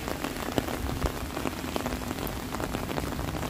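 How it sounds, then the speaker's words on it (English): Steady rain falling and pattering on surfaces outside an ice cream shop during a sudden storm, a dense, continuous close hiss with scattered drop ticks throughout and no voices. "Even it's raining."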